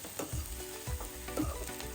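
Chopped onions fry in a pan with curry leaves for a Marathi cashew vegetable dish, a steady close sizzle broken by several soft stirring scrapes, no talk.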